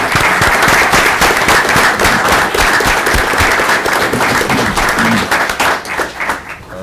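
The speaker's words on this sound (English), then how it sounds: "if we can give her a round of applause" Loud, dense applause from an audience at a city council meeting, steady crackling claps filling the room for several seconds before thinning out at the end.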